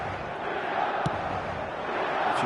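A stadium crowd in the eFootball video game gives off a steady, broad roar of massed fans at moderate distance, with one brief sharp accent near the middle and no clear speech.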